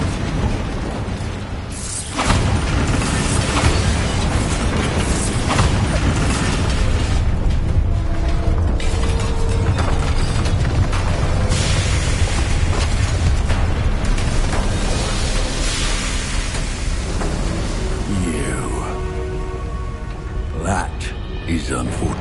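A Bombarda explosion spell bursts in the Hogwarts Legacy video game, a loud booming blast around two seconds in that leads into sustained dense rumbling and crumbling debris, with mechanical clatter and game voices layered over it.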